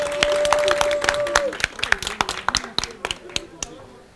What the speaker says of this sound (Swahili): Tumpigie makofi Berkane.